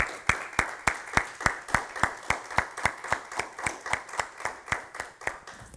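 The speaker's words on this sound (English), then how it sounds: "Let's give another hand clap of praise." A congregation in a church gives a steady, rhythmic hand clap of praise, sharp evenly spaced claps in unison at a brisk tempo, continuing for several seconds without speech.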